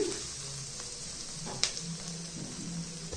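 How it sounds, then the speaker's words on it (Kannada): Semolina (rava) fries over medium heat in a pan with curry leaves, giving a soft, faint sizzle with a brief scraping stir near the middle and no talking. "ಇದು ಸ್ವಲ್ಪ ರವೆ ಬೆಚ್ಚಗಾಗೋವರೆಗೂ ಮೀಡಿಯಮ್ ಊರಿಲಿ ಫ್ರೈ ಮಾಡ್ಕೋಬೇಕು"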